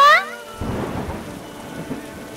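Cartoon rain and thunder: a brief tonal effect gives way to a rumbling thunder burst and steady rainfall pattering on a surface, with no voices.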